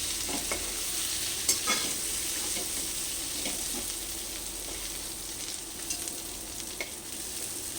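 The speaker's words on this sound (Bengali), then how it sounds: "চিংড়ি মাছগুলো ভেজে নিলাম বেশি ভাজতে হবে না" Prawns fry in hot oil in a pan, a steady close crackling sizzle joined by repeated stirring clatters and sharp spatula knocks.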